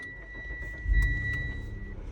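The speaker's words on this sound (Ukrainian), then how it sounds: "Заводиться, мотор дуже добре робить." A 2013 Mitsubishi Outlander with a 3.0 V6 and automatic gearbox runs at idle with a low, steady hum close by, swelling slightly after a second; no one speaks.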